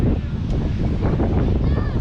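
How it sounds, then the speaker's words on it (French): Gusty wind at Saint-Gilles-les-Bains on Réunion island buffets the microphone with a steady, loud low rumble for about two seconds. "c'est vrai qu'il y a pas mal de vent"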